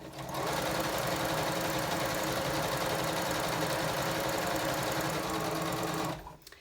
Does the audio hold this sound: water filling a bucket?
no